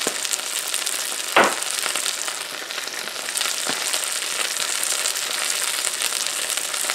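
Steady, loud sizzling of kung pao chicken frying as oyster sauce goes into the hot pan, a continuous hiss broken by a sharp spatter and a few clinks of stirring, with no talk.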